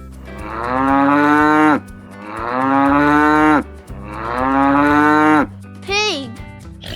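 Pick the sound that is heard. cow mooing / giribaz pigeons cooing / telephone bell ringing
cow mooing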